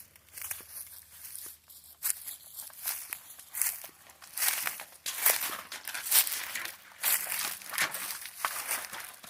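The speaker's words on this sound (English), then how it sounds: "Here goes Riviera down into the first creek." A four-year-old Tennessee Walking Horse mare walks down toward a creek, hooves crunching and rustling through dry leaves and brush in an irregular steady rhythm, close and moderately loud, with no talk over it.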